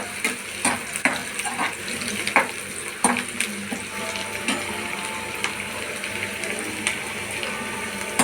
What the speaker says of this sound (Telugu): వీళ్ళకి ఉల్లిపాయ వేసి కొంచెం వేగనివ్వాలంట